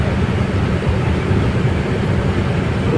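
Steady loud rumble and rushing noise from inside a moving train, a continuous broadband roar with no distinct clacks, close and unbroken.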